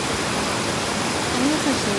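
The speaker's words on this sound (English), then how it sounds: "this is the waterfall, right?" A waterfall on a riverside trail, a dense, steady roar of falling water, loud and close, with a faint voice briefly under it.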